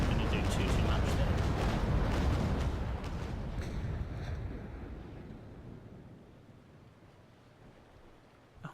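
Broadside cannon fire from sailing warships in Naval Action, a heavy rumbling roll of booms that fades away into quiet, with someone talking over it.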